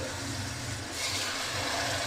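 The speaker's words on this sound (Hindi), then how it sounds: "अब मैं इसमें थोड़ा सा पानी डाल के" Water pours steadily into a pan of onion-tomato spice masala for aloo palak, a continuous hissing splash for about two seconds, close and moderately loud.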